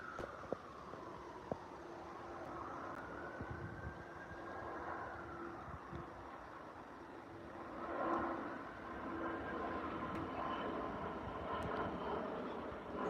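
A British Airways Airbus A320 departing Heathrow runway 09L passes overhead with a steady engine roar and a whining tone that swells, fades slightly, then builds again, fairly distant.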